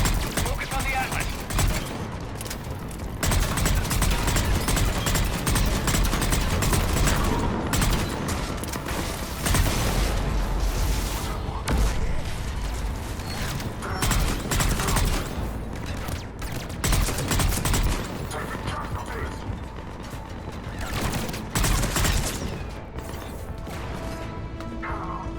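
Heavy cannon fire pounds through a Mass Effect 3 battle on Omega, loud repeated blasts and crashes layered with mechanical clatter and dense combat noise, with brief speech in the mix.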